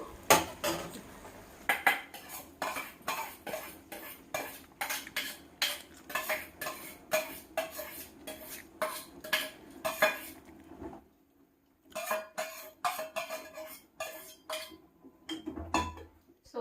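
Rice is added to a pot of vegetable biryani and mixed, with a run of quick metallic scrapes and clinks of a spoon against the pot that pause briefly, then resume.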